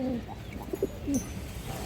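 Pair of domestic pigeons in a loft giving soft low cooing calls, a few short rolling coos close by against a steady hum of background noise.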